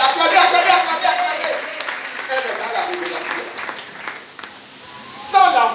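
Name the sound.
congregation applauding a church member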